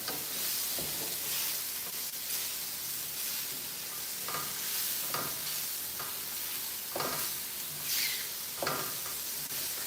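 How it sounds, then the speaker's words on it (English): Mushrooms frying in a pan over moderate heat for a full English breakfast, giving a steady close sizzle with intermittent stirring scrapes through the whole stretch. "Make sure your heat is not too high so your mushrooms don't get burned."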